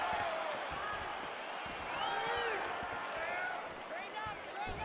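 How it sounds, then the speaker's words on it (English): Arena crowd at a UFC women's bout between Amanda Nunes and Holly Holm reacting to an outside leg kick, a dense continuous roar with rising swells and scattered shouts, heard under a commentator's talk. "can you hear the reaction from the crowd as another outside leg kick lands?"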